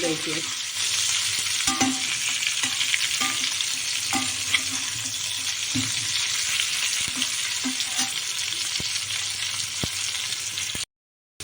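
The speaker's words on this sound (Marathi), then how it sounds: "आपले वांगे डाग पडेपर्यंत व्यवस्थित तळले गेलेले" Stuffed eggplant fries in hot oil with a dense, continuous sizzle, punctuated by soft clicks and scrapes of stirring, before cutting off abruptly near the end.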